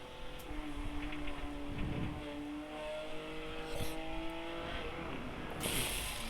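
Race car engine in the iRacing sim drones with steady harmonic whine as the car rolls on after a crash into the wall, a brief sharp hiss bursting in near the end as the engine blows.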